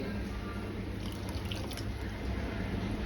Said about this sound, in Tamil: இப்போ இதில் ஊற்றிட்டு கலந்துட்டுருங்க.